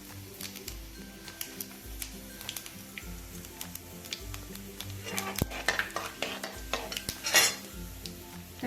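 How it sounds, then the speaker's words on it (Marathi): Mustard seeds and cumin dropped into hot oil in a pan while making stuffed okra masala, giving scattered sharp ticks and crackles with metal scrapes and clinks of a spoon against the pan, busier toward the end. "मोहरी टाकून घेऊया. मोहरी टाकल्यावर जिरं टाकून घ्यायचं."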